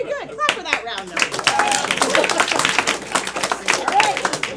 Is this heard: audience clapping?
yes